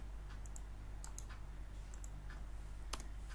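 Sparse, light clicking keystrokes on a computer keyboard, a few scattered taps and short pairs over a low steady hum, quiet and close, with no talking.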